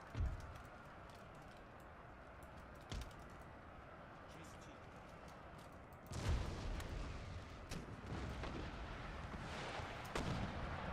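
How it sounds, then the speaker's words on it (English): Saker cannons fire in Empire: Total War during a battle against a lightly garrisoned position. Dull booms of artillery rise over a constant rumble of battle noise, with a heavier burst of shots around the middle. "Good shooting, artillery."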